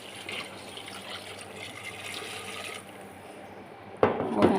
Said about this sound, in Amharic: አሁን የሚበቃውን ያህል ውሃ ጨምሬ ከድነዋለሁ